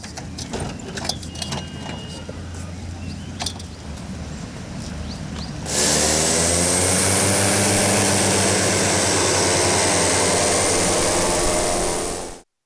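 A workhorse propeller airplane in Congo is heard first as a muffled engine drone, then as a loud, steady roar up close that holds for several seconds before cutting off abruptly.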